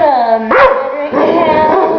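A dog whines and yips in a drawn-out, tonal way, then breaks into a short bark followed by a longer howling whimper, close and loud.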